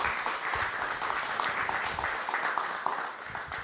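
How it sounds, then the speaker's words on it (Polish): A room of attendees at a book event in Gdańsk keeps clapping for Marcin Borchardt, an even, continuous wash of applause of moderate loudness that holds steady to the end. "Marcin Borchardt, też proszę o brawa"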